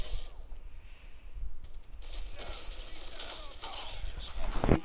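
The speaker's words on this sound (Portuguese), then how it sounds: "Tô dando um tiro nos caras, os caras estão morrendo" Rapid automatic gunfire crackles in a Call of Duty match, dense bursts layered over game noise with a player's voice talking over it.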